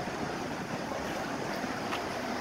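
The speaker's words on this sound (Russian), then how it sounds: "Вот оно, бушует наше море, волнуется." Sea waves surge onto the sand at Arcadia beach in Odessa, a steady, dense wash of surf mixed with wind noise that holds loud and unbroken throughout, with no voices.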